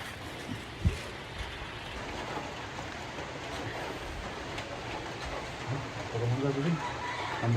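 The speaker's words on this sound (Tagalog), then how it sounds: "lalong lumalakas ang ulan" Heavy rain pours steadily at a beach cottage resort, a dense, constant hiss filling the scene while people talk nearby.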